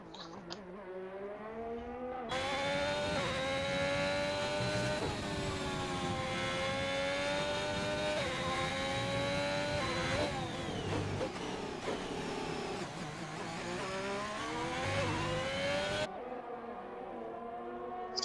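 The onboard engine of an F1 car in F1 2021 at Bahrain screams loud and high, rising and falling through gear shifts for about fourteen seconds, then cuts off sharply, leaving a quieter stretch before and after.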